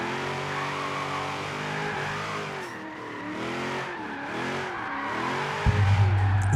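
A Chevy SS in Forza Horizon 3 revs and roars, its engine pitch sweeping up and down through several gear changes with tire squeal, ending in a sudden loud thump.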